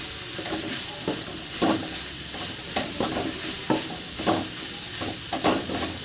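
Tender bamboo shoots stir-fried in a pan, a rhythmic series of close spatula strokes scraping and tossing over a constant sizzle, with no one speaking.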